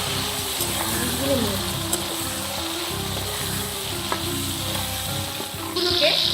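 Potatoes frying in hot oil in a Bengali kitchen make a steady, close sizzle, with occasional stirring scrapes and utensil clinks.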